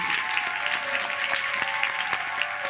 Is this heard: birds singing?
no